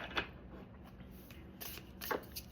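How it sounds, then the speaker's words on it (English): Tarot cards are shuffled by hand: a soft riffle near the start, then a busier flurry of papery card slaps toward the end, close and quiet with no talking. "I am going to shuffle the cards, focusing on your highest good"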